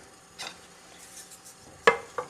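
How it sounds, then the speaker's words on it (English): Cream being stirred in a pan, heading toward a light simmer: a few quiet, isolated scrapes and a sharp clink of a utensil against the pan, close by, with a faint hiss beneath. "Stir that around."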